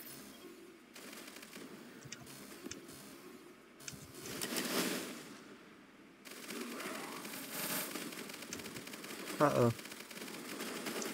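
XWM turrets in the video game Tower Defense X fire in rapid, rattling bursts amid busy game noise, with a brief spoken exclamation and clustered sharp clicks near the end.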